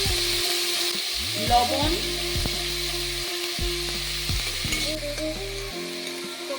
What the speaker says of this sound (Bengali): টমেটোগুলি ভেজে নেব।